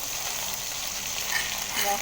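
Ground paste of chili, green chili, onion, garlic and ginger hits hot frying oil that was used for frying fish, producing a dense continuous sizzle up close, with no talk.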